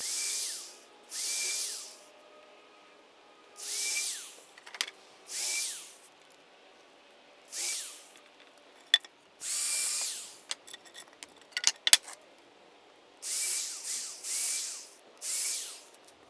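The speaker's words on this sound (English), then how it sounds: "I'm just going to drill some holes" A power drill bores holes in boards for a raised-bed square-foot vegetable garden, running in about eight separate bursts of whirring with brief clicks and pauses between, close and clear.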